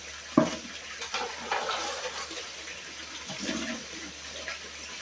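Water sloshes and washes through dissolved clay and sand in a pan while prospecting for gold, with a few louder splashes standing out against a steady close wash.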